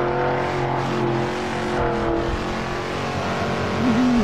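A Shelby 427 Cobra's engine in the racing game Assetto Corsa at Vallelunga drones loudly at steady high revs, with a small rise and dip in pitch and a brief squeal near the end.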